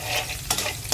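Cardamom and cinnamon hit hot oil in a pan where a fish head with taro is cooking, giving a soft continuous sizzle with a couple of brief stirring scrapes.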